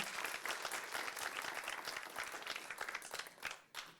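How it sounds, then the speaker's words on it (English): A room at a supplier diversity hearing gives a round of applause, a brisk patter of many hands that holds steady, then thins and tapers off near the end, fairly faint overall. "We'll do another round of applause for them there."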